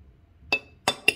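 A spoon clinks against a bowl three times, bright and close, with short gaps of near-silence between, as mayonnaise is being added for a turkey burger sauce.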